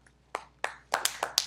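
A small group of people clapping, a few sparse, uneven claps at first that quicken into a scattered burst of applause, close and fairly quiet.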